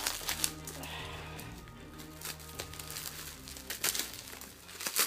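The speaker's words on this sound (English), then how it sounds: "after an hour's worth of unwrapping the stupid bubble wrap" Plastic bubble wrap packaging crinkles and crackles steadily while being unwrapped from a boxed toy, with dense rustling throughout and a few sharper bursts of crinkling near the end, fairly close.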